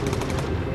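A gun turret firing in the Bomber Crew video game: a rapid, continuous rattle of automatic shots, loud and dense across a brief burst.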